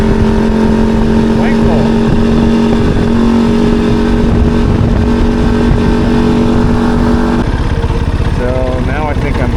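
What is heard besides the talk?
group of Mazda RX-7 cars driving past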